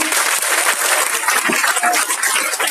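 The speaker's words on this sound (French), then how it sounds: "On peut les applaudir, bravo!" A crowd applauds at an awards ceremony for a creators' challenge, a dense, steady wash of clapping hands that fills the room continuously and loudly, with no voices standing out.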